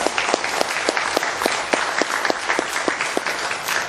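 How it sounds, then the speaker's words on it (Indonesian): An audience claps steadily in a dense, loud burst of applause that holds for several seconds with no talk over it. "Tepuk tangan buat Portir."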